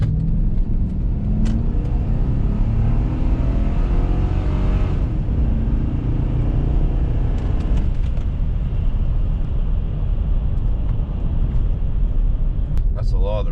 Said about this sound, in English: Give you a little acceleration.